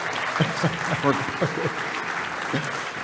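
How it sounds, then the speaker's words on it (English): Applause from a leadership conference audience fills the room, steady clapping with a few louder bursts, while voices talk over it nearby. "ladies and gentlemen, have a round of applause for Paul Lucido."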